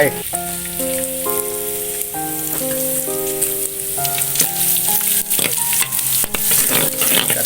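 Garlic dropped into hot oil in a wok fries with a loud, busy sizzle and crackle, while melodic background music plays throughout and sharp clinks punctuate the end.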